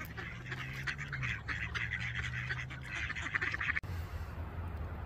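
Ducks quack on a frozen lake in a run of faint, distant calls over low outdoor background noise, with a brief sharp knock near the end.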